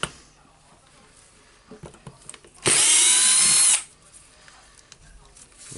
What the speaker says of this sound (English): Now I need to unscrew the four screws here.